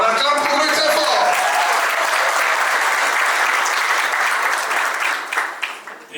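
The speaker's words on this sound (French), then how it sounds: "On acclame pour lui très fort." Loud, sustained applause from a crowd at a civil wedding ceremony, dense and steady before tapering off near the end.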